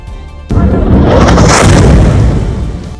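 A sudden, massive explosive boom bursts in after half a second of quiet in Ghaziabad, rattling nearby buildings and blowing out windows, followed by a long rumbling roar of collapsing debris that slowly fades.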